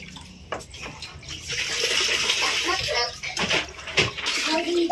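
Water is poured into a newly bought water cooler, a continuous splashing, gurgling stream heard up close while people talk over it.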